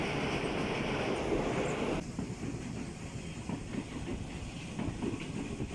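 A passenger train from Colombo to Kandy, Sri Lanka, rumbles along the tracks with a steady rattling clatter, loud and close, the tone shifting slightly partway through.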